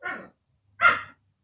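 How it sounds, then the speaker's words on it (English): Two short dog barks, spaced apart, fairly close by, with silence between them. "What are you barking about?"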